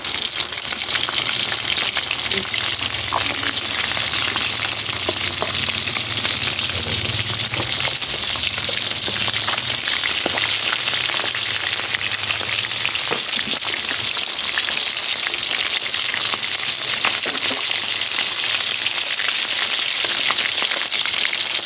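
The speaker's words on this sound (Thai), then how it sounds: "ทอดปลาอันนี้ปลาสลิดปลาสลิด" Sun-dried snakeskin gourami fish frying in oil, a loud continuous crackling sizzle that stays dense and even throughout, with no voices.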